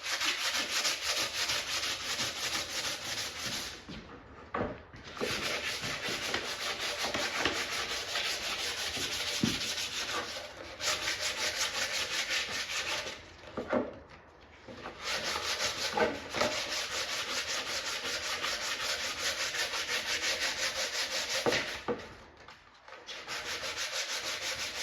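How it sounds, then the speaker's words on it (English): Hand sanding of body filler on a fiberglass motorcycle part goes on steadily and up close as a continuous rasping scrub, broken by a few short pauses. "I probably won't sand the whole thing on camera"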